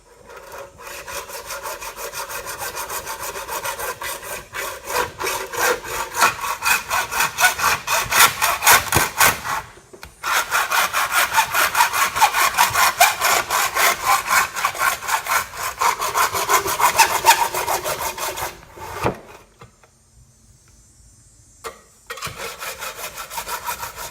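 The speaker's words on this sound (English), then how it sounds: "I'm using a hacksaw." A hacksaw rasps back and forth through a speaker clamped in a vise, a dense rhythm of close strokes with one short pause midway and a near-silent gap toward the end before a few last strokes.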